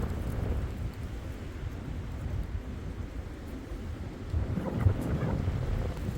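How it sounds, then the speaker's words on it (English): Strong gusty wind blows outdoors on a disc golf course, buffeting the microphone in a steady low rumble that swells and surges, with no talk heard. "Oh man, this wind is nasty."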